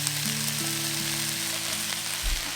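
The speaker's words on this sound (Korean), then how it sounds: "마늘 넣고 양파 넣어서 볶아주세요" Mushrooms, garlic and onion sizzle steadily in a hot pan, a close, even frying hiss with a soft stir near the end.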